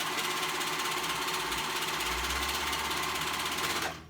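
A sewing machine runs steadily while stitching through three layers of a dress neckline with a stretched cowl, a close continuous whir that stops abruptly near the end.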